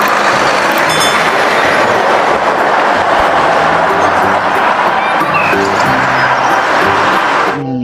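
A passing train rumbles loud and close, its wheels clattering in a steady clickety-clack on the rails with some background voices, before the noise cuts off abruptly at the end.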